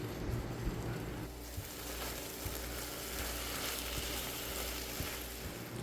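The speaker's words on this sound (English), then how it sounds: "Get those into a hot buttered pan and get to scrambling." Eggs scramble in a hot buttered pan with a continuous close sizzle and crackle, plus light stirring scrapes and occasional soft taps throughout.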